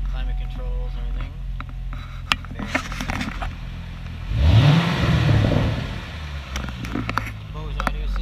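A Corvette engine revs up through its exhaust in a deep swelling roar and settles back to a rumbling idle, with brief voices and clicks nearby.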